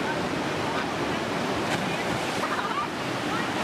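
Rain-swollen river rapids rush continuously, a loud, dense roar of churning water that stays steady and close for the whole stretch, with no pauses.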